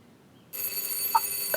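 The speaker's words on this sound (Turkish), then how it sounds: "kapı çalıyor" A bell rings at a house door in a Turkish drama scene, sounding suddenly after near silence as a bright electronic chime, close and steady.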